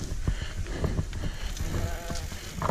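Sheep bleat on an open hillside beside a mountain biking trail, a few calls over steady wind and rustling outdoor noise.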